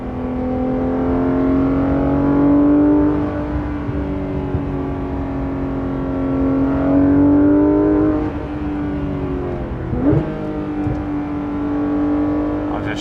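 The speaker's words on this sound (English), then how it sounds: "I like this exhaust though. I like the way this sounds." Exhaust of a Porsche 991.2 GT3 RS on the road, heard from inside as the engine climbs and falls through several loud rising pulls and quick shifts, near and continuous.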